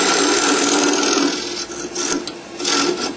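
A wood lathe spins a bowl blank while a full gouge cuts into it, giving a steady, loud rasping shear that eases and swells in short passes as the tool works in a little at a time.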